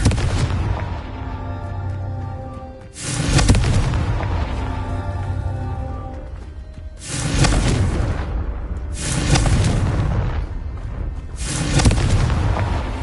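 Confringo explosion spells in the video game Hogwarts Legacy go off as several loud, booming blasts at intervals, each bursting and then rumbling over a dense, continuous game soundscape.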